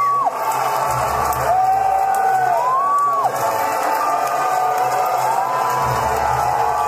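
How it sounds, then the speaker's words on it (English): A large crowd along the royal wedding procession route to Buckingham Palace cheers and whoops continuously, a broad roar of many voices with rising and falling shouts, heard from a distance and sustained throughout. "Listen to this crowd."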